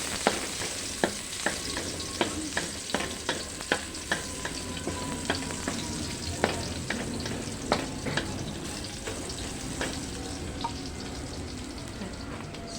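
Garlic sautés in a pan under a constant frying hiss, with regular sharp taps and scrapes from a ladle roughly every half second.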